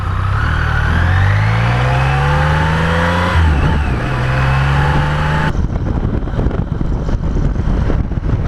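A Land Rover-type vehicle, with clutch engaged and first gear selected, pulls away on a mountain road near Setenil de las Bodegas, its engine rising in pitch under steady acceleration before a gear change and then rumbling on with wind noise.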